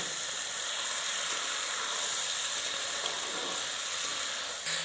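Steady sizzle of tomato cooking down in a pan with magur fish and bitter gourd, a continuous bright hiss with faint stirring, no voices.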